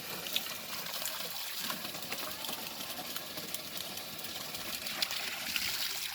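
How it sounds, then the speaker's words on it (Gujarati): Water gushes in a continuous, even rush, close by and unbroken throughout. "પાણી ધોધ મારજો બાકી"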